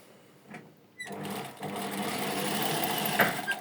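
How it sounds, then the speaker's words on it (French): A sewing machine starts after a second of near quiet and runs steadily, stitching a seam about 1 mm from the edge, with a continuous close mechanical whir and no speech. "On va refaire une autre couture ici à 1 mm."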